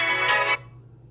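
A phone ringtone sounds briefly, a loud, bright tone that cuts off abruptly after half a second over a low steady hum.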